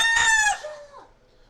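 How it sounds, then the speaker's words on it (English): A rooster crows once, loud and close, the call bending downward and trailing off over about a second with no talk over it. "Oh shit, my rooster."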